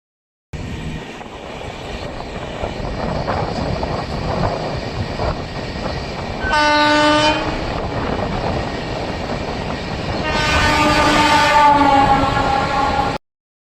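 Steady rumble and rattle of the Chandigarh Express running, heard from inside a 3rd AC sleeper coach, with a continuous broadband roar and two brief whistle-like tonal passages rising above it.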